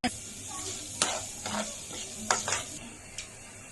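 Cumin, mustard seeds and chana dal hitting hot oil in a pan, a faint steady sizzle broken by sharp spoon clinks and scraping stirs against the pan.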